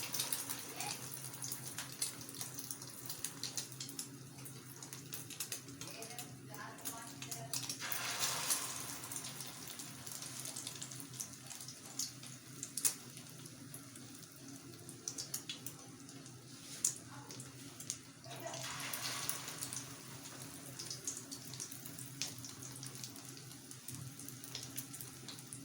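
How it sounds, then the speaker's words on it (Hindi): Chicken shami kababs dipped in egg fry in hot oil, giving a faint, steady sizzle and crackle with soft swells of hissing throughout. "अब मैं इसे फ्राई करने लगी हूँ।"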